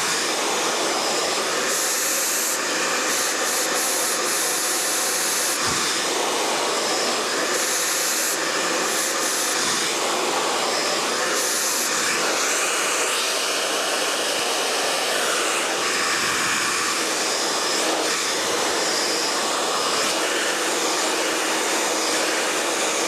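A hair dryer roars continuously and loudly throughout a curly blow dry on ombre-coloured hair in a hairdressing demonstration, its steady whooshing airflow shifting slightly in tone as it moves, with no talking.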